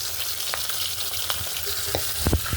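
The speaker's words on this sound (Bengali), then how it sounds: "এক পিট মাছ ভাজা হয়ে গেছে আমি এখন উল্টাই আর এক পিট ভেজে নেব" Fish pieces fry in hot oil in a pan and are flipped over one by one: a steady, close crackling sizzle broken by a few sharp scrapes and spatters as each piece turns.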